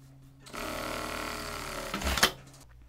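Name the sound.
sewing machine topstitching along the seam edge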